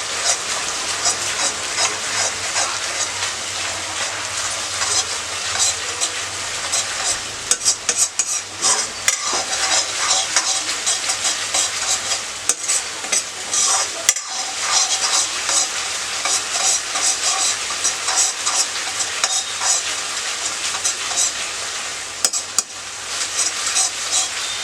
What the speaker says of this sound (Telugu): మంచి స్మెల్ వచ్చే వరకు టాస్ చేసుకుంటూ ఉండాలి